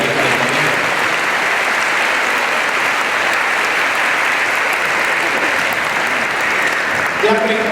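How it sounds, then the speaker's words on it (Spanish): A congregation at a Catholic charismatic renewal gathering bursts into sustained, loud applause that fills the room steadily for several seconds, with voices mixed into the clapping. "Denle un aplauso al Señor y a la Virgen"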